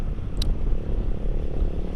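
A motorcycle exhaust with a smooth, not very loud bass tone: a steady, low, even rumble heard close up with no breaks.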